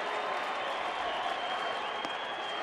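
A ballpark crowd at a Cubs versus Diamondbacks game in Arizona keeps up steady, dense cheering and applause, a broad wash of sound that stays loud and even throughout.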